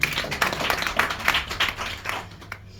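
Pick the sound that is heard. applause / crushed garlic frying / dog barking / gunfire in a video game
applause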